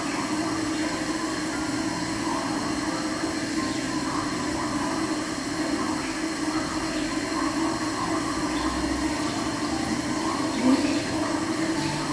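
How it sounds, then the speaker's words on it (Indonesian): Hands are washed with soap under a running tap, a steady close rush of flowing water that carries on throughout, with faint talk in the background. "kita lakukan cuci tangan kembali dengan sabun dan air mengalir dengan 6 langkah"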